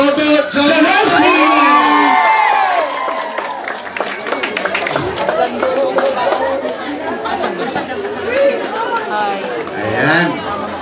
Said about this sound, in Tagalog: palapakan po natin. May kasamang sigawan